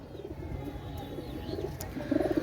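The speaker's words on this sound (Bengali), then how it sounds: "মাশাল্লাহ ভাই অসাধারণ কবুতর" Pakistani Teddy pigeons, a breeding pair at a sale, give soft low coos amid quiet background noise, with a slightly stronger cooing burst near the end.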